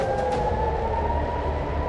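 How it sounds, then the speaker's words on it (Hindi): Air raid siren wailing over Tel Aviv, a steady sustained tone heard from a distance against constant background rumble, with no voices. "इजराइल की राजधानी तेल अवीव में सायरन की आवाजें आने लगी"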